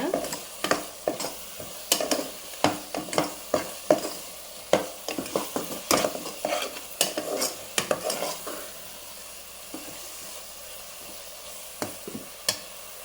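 Onions sauté in a pan for a fish curry, with a scraping spatula stirring in rapid, irregular strokes over a soft sizzle. The stirring is close and loud and thins out toward the end.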